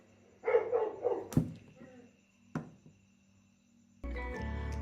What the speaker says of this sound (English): Why do the dogs always bark when I'm taking a video?